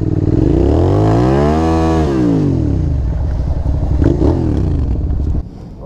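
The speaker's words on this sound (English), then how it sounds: "Sweet! Burnouts!" Ducati Hypermotard motorcycle revving hard through a burnout, engine pitch sweeping up and falling back, then further rough revs and clatter, loud and close, ending abruptly.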